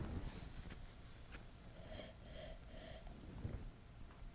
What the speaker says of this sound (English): let's give it a sniff here.